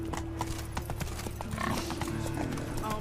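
Hooves of Roach, a horse in The Witcher 3: Wild Hunt, gallop in a steady rapid clip-clop rhythm, close and continuous, over in-game ambience with a brief whinny.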